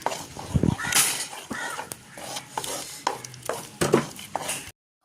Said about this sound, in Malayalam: കൈവിടാതെ ഇളക്കിക്കൊണ്ടിരിക്കണം കേട്ടോ